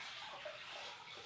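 Clean microfiber cloth dunked into a bucket of diluted detergent wash solution during a car detail, giving a steady close splashing, sloshing water sound throughout with no talk.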